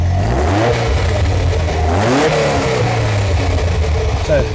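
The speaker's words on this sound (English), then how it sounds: "So I've got a backfire, then loss of power." Ferrari 308 with an intermittent ignition fault, engine revving and sagging in repeated surges with stumbling, popping irregularity as it loses power, loud and close, a voice speaking over it.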